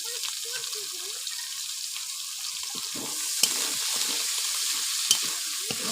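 Chopped onion with ginger and garlic paste frying in hot oil in a home kitchen, a soft steady sizzle with occasional stirring scrapes and faint clicks, quiet and close.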